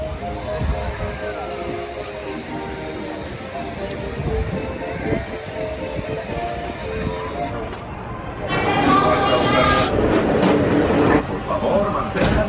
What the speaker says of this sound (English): the Walt Disney World Railroad